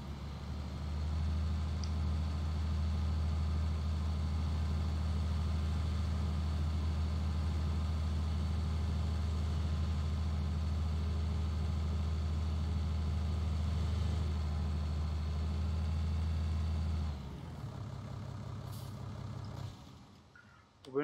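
A heavy diesel tractor engine in Farming Simulator 2019 idles steadily with a deep low throb for most of the clip, then shifts to a rougher rumble near the end.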